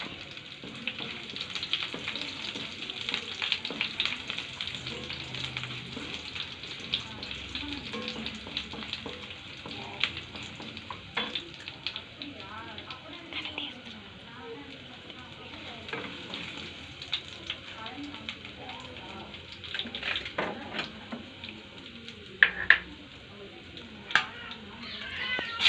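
Cinnamon and chilies fry in a pan with a sustained crackling sizzle, punctuated by occasional spoon scrapes and taps, nearby and moderately loud, with a louder clatter near the end.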